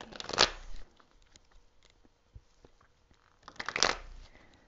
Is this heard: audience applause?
no